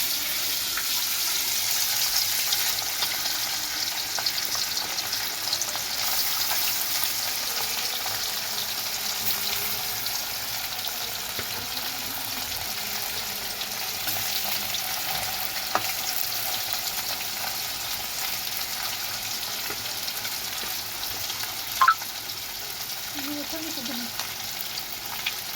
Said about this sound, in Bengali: এই যে মাছটা ভেজে নেব এখন।